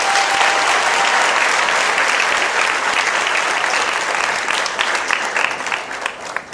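An audience at a teaching talk claps hands together, a dense sustained applause that stays loud and even before thinning slightly toward the end.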